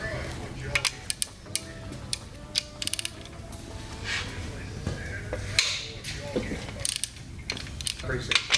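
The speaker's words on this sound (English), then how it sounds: "There's a bolt in each side, so take those out first." A ratchet works loose the main cap side bolts of an LS engine during a home rebuild, rapid clicking pawl bursts and metallic creaks, near and loud, with some talk.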